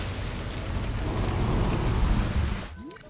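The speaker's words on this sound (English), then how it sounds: "Yeah, just got a normal storm." A storm in Jurassic World Evolution, with loud, steady rain hiss and a deep rumble of thunder that swells, then cuts off abruptly near the end.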